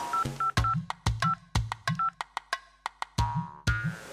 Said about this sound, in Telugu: ఒకసారి ప్రావకర్ అన్నకు ఫోన్ చేసి అడుగుతా